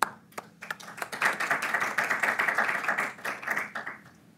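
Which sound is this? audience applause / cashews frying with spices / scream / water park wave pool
audience applause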